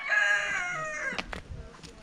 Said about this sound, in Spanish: Y una gallinita con sus pollitos allá.